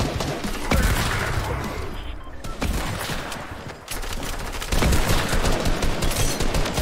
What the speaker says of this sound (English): Wait, why are they shooting me?